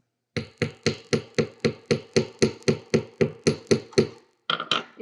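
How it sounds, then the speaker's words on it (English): Rapid, evenly spaced hammer blows flatten a small piece of metal wire for jewelry making, about a dozen sharp strikes close up in a steady rhythm, then a short pause and two more. "we're just going to hammer it flat to about half the thickness"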